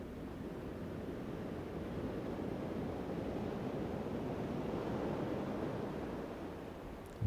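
Ocean waves roll onto a beach in a steady, soft wash of surf that swells and recedes at moderate distance, with light wind noise and no voices.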